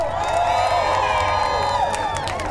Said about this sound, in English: Let's give another round of applause for Rio!